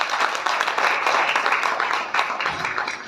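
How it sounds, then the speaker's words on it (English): An audience at a book launch applauds, a dense, steady wash of clapping from many hands that holds for a few seconds, close and fairly loud. "Let's give a round of applause."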